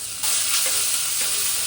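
Onion, curry leaves and red chilli sautéing in hot oil: a loud, steady hiss of frying close up, with light stirring scrapes and no voices.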